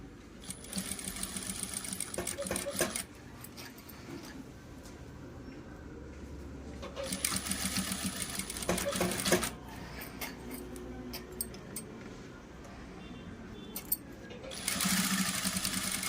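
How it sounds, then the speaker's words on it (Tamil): Sewing machine stitching fabric: a fast mechanical whirring chatter starts and stops in several runs of a few seconds each, the needle's rapid ticking close to the microphone, with quieter pauses between runs. "கொஞ்சம் பொறுமையாக ஸ்டிச் விடுங்க அப்போ தான் வந்து கரெக்டாக வரும்"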